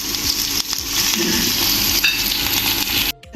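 Cumin, green chili and chopped onion fry in hot oil for a Kerala-style sambar, giving a loud, steady close sizzle with occasional stirring scrapes, no talking, ending in an abrupt cut.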